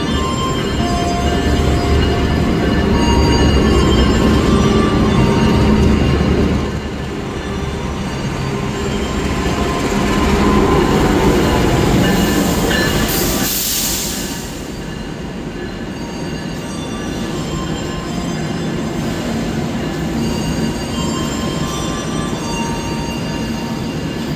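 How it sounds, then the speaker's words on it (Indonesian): The Gaya Baru Malam Selatan passenger train rolls past at close range, a loud sustained rumble of wheels on rails with metallic squeals, fading slightly toward the end. "Ini dia rangkaian kereta Gaya Baru Malam Selatan"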